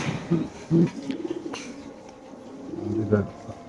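Racing pigeons for sale in a pigeon shop coo softly in low, rolling bursts beneath nearby people talking.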